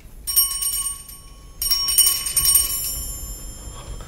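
A small handbell rings in two bright bursts of rapid tinkling, the second lasting longer and fading into a faint shimmering decay, set against a quiet background with no talk.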